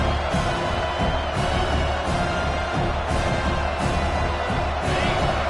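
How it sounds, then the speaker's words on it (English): A dense stadium crowd roars and cheers continuously in a college football video game, a loud, steady wall of noise with rhythmic surges. "Wow, listen to this crowd noise. This stadium is vibrating."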